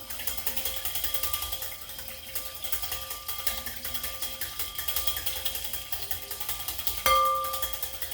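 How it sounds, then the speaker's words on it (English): A whisk beating olive oil and vinegar into a dressing in a bowl makes a quick, continuous ticking and clattering rhythm, fairly close, with a sharper knock near the end. "So you got to keep whisking to get it all done, to make sure it stays emulsified."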